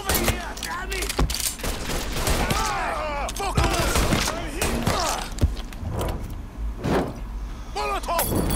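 Bursts of video game gunfire from Mafia 3, with rapid shots and impacts scattered through a busy action scene, loud and close, over background car and street noise.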